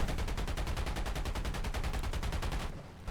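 Fighter-plane machine guns fire a long, continuous rapid burst in War Thunder, loud and even with regular rattling shots, then stop abruptly near the end.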